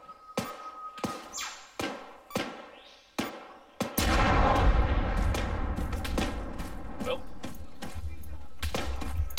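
An Arma 3 jungle firefight: a string of sharp, separate shots or impacts, then a heavy blast that gives way to a long, loud rumbling roar.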